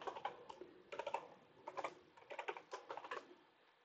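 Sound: typing a password on a computer keyboard

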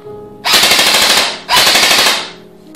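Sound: airsoft gun firing in semi-automatic mode

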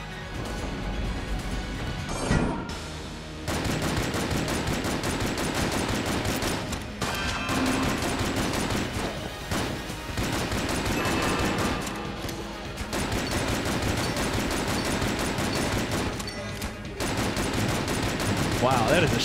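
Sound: gun firing in the video game Enter the Gungeon

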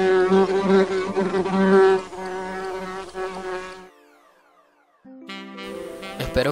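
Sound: fly buzzing effect in MAGIX Video deluxe 2013

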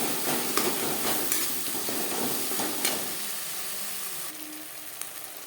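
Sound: stirring tomato and spices in pan

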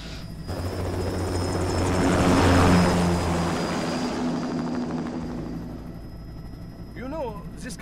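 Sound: aircraft taking off, from video game Metal Gear Rising

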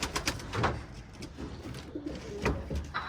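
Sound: birds being released from their loft for flight

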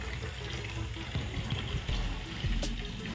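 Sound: water running from newly fitted kitchen sink mixer tap

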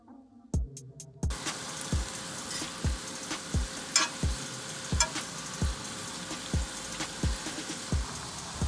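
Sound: onions and garlic sizzling in a pan

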